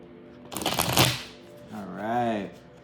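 Tarot cards being shuffled in a quick riffling burst, close and crisp, followed by a short stretch of someone speaking.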